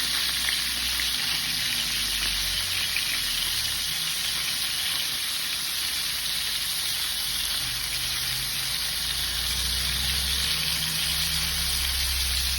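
Chicken pieces for mushroom chicken frying in a pan, a steady loud sizzle and hiss of hot oil that runs without a break the whole time, with no talking.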